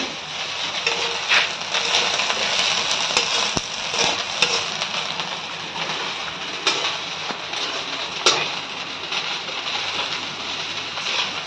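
Steady hiss of rain pouring down, with occasional sharper taps and pops over the continuous wash of sound.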